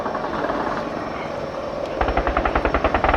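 An Apache gunship helicopter at an air show, its rotor roar steady and loud before a rapid, evenly spaced burst of gun-like pulses takes over in the final second.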